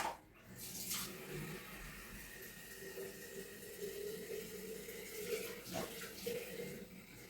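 Tap water runs steadily into a container for several seconds, a continuous close splashing stream with no voices over it.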